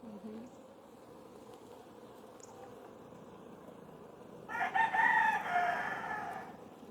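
Honeybees hum faintly from an opened hive, a low steady drone that swells louder and closer for a couple of seconds near the end.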